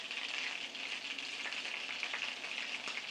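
Butter browning in a skillet while making icing for pear, ginger and spice cupcakes, giving a steady close hiss with fine crackling sputters throughout.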